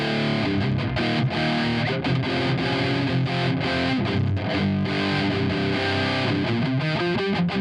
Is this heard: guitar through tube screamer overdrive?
yes